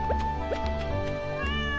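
A cat meows in the farming video game Stardew Valley, two short clear meows near the start with soft game background sounds continuing underneath.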